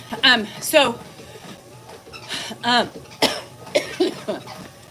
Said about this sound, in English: Just had that nagging cough, you know?